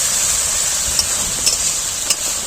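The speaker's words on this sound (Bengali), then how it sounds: "এবার এটা ভালোভাবে কষিয়ে নেব যতক্ষণ না সাইডে তেল ছেড়ে আসছে" Tomato paste and spices frying in oil in a pan, a loud steady sizzle with a few soft scraping stirs at intervals, close up and without talk.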